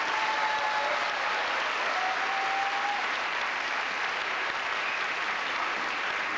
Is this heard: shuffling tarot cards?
no